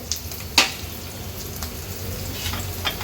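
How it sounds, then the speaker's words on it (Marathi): Ingredients sautéing in hot oil for a potato bhaji give a soft, steady frying sizzle, with a brief stir or clink near the start and faint scraping later. "आता तेलावर ह्या सर्व वस्तू आपण थोड्या परतून घ्यायच्या आहेत"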